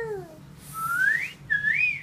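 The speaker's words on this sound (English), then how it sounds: "What are you whistling?" A 16-month-old toddler whistles a few close, breathy rising and falling notes, thin and wavering, with short pauses between them.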